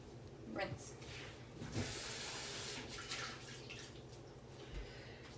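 Water runs from a kitchen tap for a rinse, a steady broadband rush lasting a few seconds with small splashes and clatter, close and moderately quiet, with a person speaking briefly over it.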